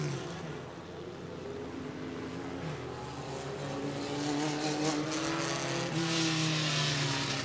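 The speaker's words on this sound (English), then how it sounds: "The fast heat of Midwest Dash Series cars ready to go." Midwest Dash Series race cars run a heat at Rockford Speedway, their engines a sustained roar with rising and falling whines as the cars accelerate around the track, heard from a distance with no talking.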